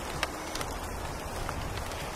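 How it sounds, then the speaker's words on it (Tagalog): A rain sound effect hisses in a soft, steady wash of falling drops with a few faint pattering ticks, alone at moderate volume. "Pwede rin naman ulan."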